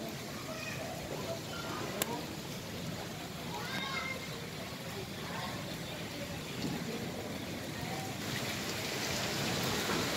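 Steady, dense rain pours down without pause during flooding in Panchkula, a broad hiss of water hitting surfaces close by.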